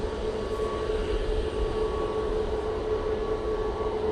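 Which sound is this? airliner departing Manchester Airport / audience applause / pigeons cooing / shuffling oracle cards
airliner departing Manchester Airport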